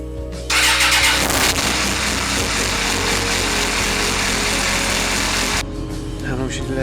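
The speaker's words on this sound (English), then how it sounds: "It helps to have the engine warm. And we'll start it up and let it run through it." A Suzuki GSX-R motorcycle engine, warm, cranks and catches, then idles loud and steady at close range in a garage before cutting off, with a voice speaking briefly.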